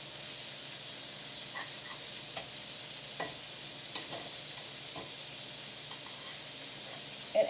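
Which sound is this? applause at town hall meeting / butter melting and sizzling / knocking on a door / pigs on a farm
butter melting and sizzling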